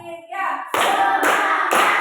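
Group of people clapping together in a counted classroom rhythm, three bursts of unison claps following a brief spoken lead-in, close and fairly loud.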